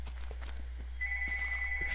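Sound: telephone ringing

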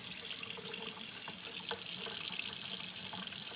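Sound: water running from a kitchen tap

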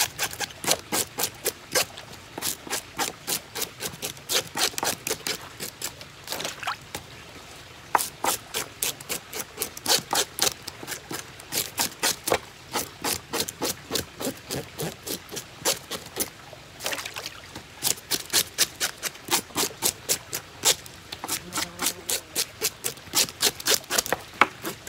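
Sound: scaling white perch fish

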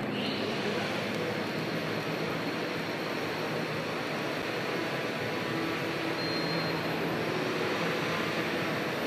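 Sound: Workhorse delivery drone flying

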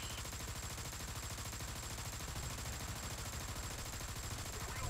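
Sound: machine gun firing in War Thunder video game, Tiger tank

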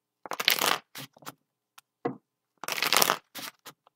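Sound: shuffling tarot cards

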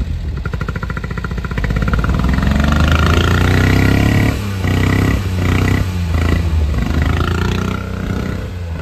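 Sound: JDM car engine running, possible misfire

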